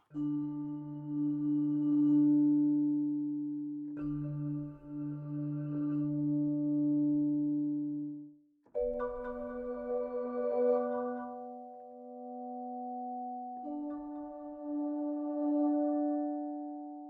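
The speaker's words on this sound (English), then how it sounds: "this is an example of one that makes use of this little echo engine here" Sustained, bell-like mallet tones from a sampled modern mallet instrument ring out in short melodic phrases, each note smeared by a pitched delay effect into repeating echoes that blend into a shimmering, pitched wash.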